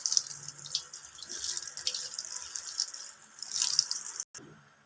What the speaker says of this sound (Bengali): আমি যেরকম ধুয়ে নিচ্ছি এইভাবে।